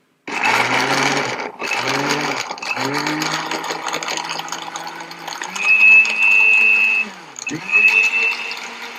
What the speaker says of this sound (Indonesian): Giling sampai halus, tapi saya sengaja pakai sekalian bijinya ya, sama kulitnya sama bijinya